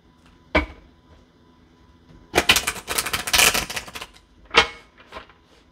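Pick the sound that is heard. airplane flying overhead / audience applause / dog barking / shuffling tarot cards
shuffling tarot cards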